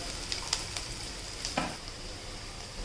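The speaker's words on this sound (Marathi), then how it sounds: "आता आपण ह्यामध्ये बारीक चिरलेला टोमॅटो टाकून घेणार आहोत" Finely chopped tomato goes into onion already frying to reddish-brown in a pan, giving a soft, steady sizzle with a few faint pops and stirring sounds, fairly quiet and with no talking.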